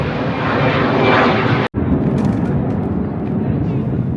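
A low-flying airplane roars loudly overhead, a broad, steady engine drone that cuts out briefly for a moment before returning at full strength.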